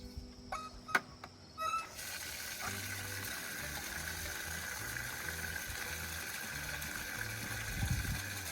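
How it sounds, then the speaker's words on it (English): Water runs steadily from the hose bib of a well after the hose is disconnected, a continuous rushing hiss that follows a few clanking handling sounds, with a low rhythmic hum underneath. "we will let the water run for a few moments"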